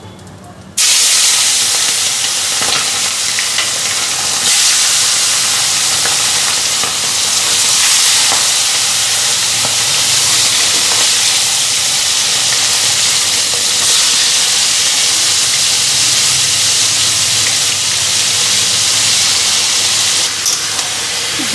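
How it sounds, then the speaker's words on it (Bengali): Fish frying hard in oil in a small wok (kadai), a loud, steady sizzle and hiss that runs without a break from start to finish, with no talk over it. "পুরো ফ্রাই হয়ে যেতেছে, পুরো এরকম করে লাল লাল করে ভাজা করুন।"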